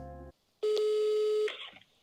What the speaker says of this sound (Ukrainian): Давайте зателефонуємо і спробуємо заїхати з домашнім улюбленцем.